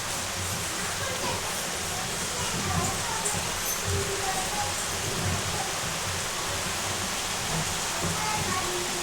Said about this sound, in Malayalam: മഴ ഇങ്ങനെ പെയ്തുകൊണ്ടിരിക്കാം.